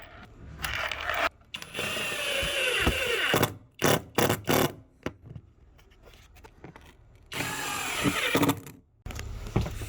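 A screw gun drives screws through flooring into glued aluminum tubes, giving several short bursts of whirring with pauses and knocks between them, moderately close, with no speech.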